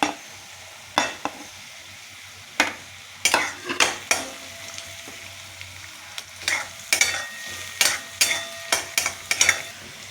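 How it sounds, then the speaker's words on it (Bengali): Garlic drops into browned onions frying in a pan for khichuri. A steady sizzle runs under repeated sharp scrapes and clinks of a spoon stirring against the pan, with no talking. "এবার আমি রসুনটা দিয়ে দিচ্ছি।"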